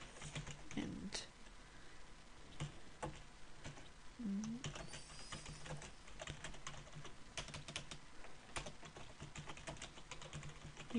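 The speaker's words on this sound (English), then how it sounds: "let's just imagine I'd finished typing" Quiet, close typing on a computer keyboard while text is entered into a web page editor: irregular runs of soft key clicks, with brief faint speech in places.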